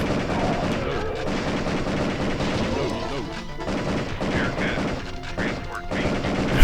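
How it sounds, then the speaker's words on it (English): Dense, continuous gunfire from the shooter game Area 51, with overlapping bursts and crashes filling a busy, loud mix throughout. "I'm just shooting everything."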